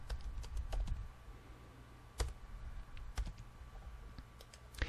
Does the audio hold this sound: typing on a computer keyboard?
yes